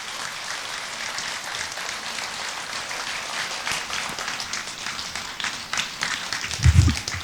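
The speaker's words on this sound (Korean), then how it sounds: "여러분, 혜민 스님을 큰 박수로 맞이해 주시기 바랍니다" Audience applause welcoming Haemin Sunim onto the stage at a mind-healing concert: a steady, dense wash of clapping from a large crowd that holds even throughout, with a louder low thump near the end.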